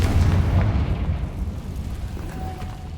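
Confringo fire spell in Hogwarts Legacy erupting in a deep, rumbling blast that is loudest at the start and then rolls away into a fading low roar.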